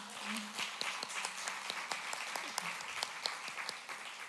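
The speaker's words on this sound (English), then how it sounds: "Let's give you guys a round of applause." An audience at an evening gratitude talk gives a round of applause, a fairly quiet wash of clapping with individual sharp claps standing out near and far, continuing evenly for several seconds.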